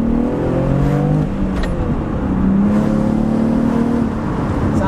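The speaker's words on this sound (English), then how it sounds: "let's do an acceleration with the windows cracked here to hear how this exhaust sounds" A 2012 Infiniti G37x sedan accelerates hard, its exhaust rising in pitch through the gears with a brief shift dip, heard from inside with the windows cracked and hills nearby.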